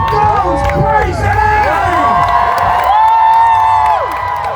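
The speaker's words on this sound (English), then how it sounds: "And the crowd goes crazy." Crowd at a Renaissance fair joust cheering and shouting loudly and continuously, with whoops and children's yells layered over a steady roar of voices.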